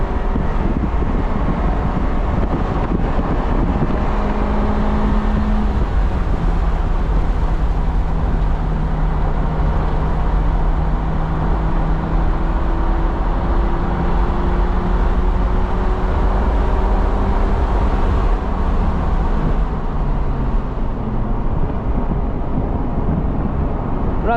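A Honda S2000 sports car driven on a race track, its engine droning steadily from inside the cabin with rising and falling tones as it revs through gears, under constant wind buffeting.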